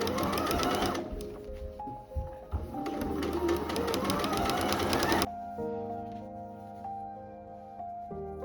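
A sewing machine stitches a collar onto the neckline of a vintage Vogue pattern dress, its fast steady motor buzz running continuously for about five seconds, then stopping and leaving quieter room tones.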